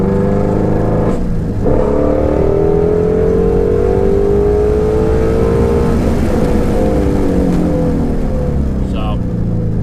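A Shelby GT350R engine with its exhaust valves open revs loudly and close by, a continuous throaty drone whose pitch sweeps upward and then settles, with no talk over it.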